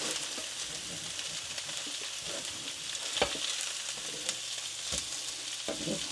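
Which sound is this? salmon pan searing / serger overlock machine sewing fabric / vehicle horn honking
salmon pan searing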